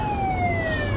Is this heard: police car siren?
yes